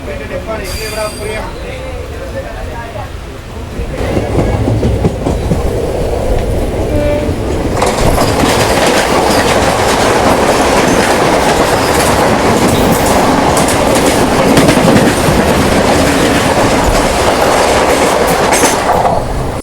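The Yelagiri Express passenger train runs on the line between Jolarpettai and Chennai Central with a loud continuous rumble and rhythmic clickety-clack of the wheels, heard from inside the coach, with a voice talking over it.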